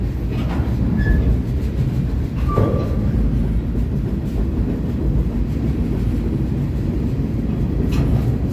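A train crosses a trestle on the Arizona Central Railroad in the Arizona desert, a loud continuous low rumble and clatter of wagons rolling past close by, with faint squeals over the steady roar.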